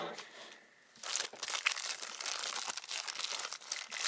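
Plastic bags crinkle and rustle steadily, close to the microphone, after a brief quieter moment at the start.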